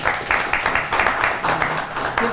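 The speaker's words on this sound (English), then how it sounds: "So let's give them a round of applause for the great work." Applause from the audience at a city council grant announcement in Peekskill, a moderate round of many hands clapping in bursts without speech.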